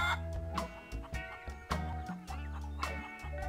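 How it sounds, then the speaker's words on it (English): A feral chicken in the game The Curse of Monkey Island clucks in short, repeated bursts over a steady backdrop of game music, with no voices in the moment. "There's a feral chicken."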